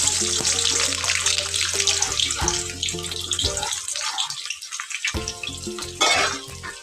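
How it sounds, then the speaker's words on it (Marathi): Hot oil sizzles and crackles loudly as spices hit the pan, a bright frying hiss with clinks of a utensil stirring, briefly dropping then flaring again. "आता त्याच तेलामध्ये मी फोडणी घालणार आहे"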